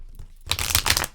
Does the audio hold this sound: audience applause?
no